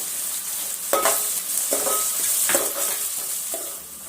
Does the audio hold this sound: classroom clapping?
no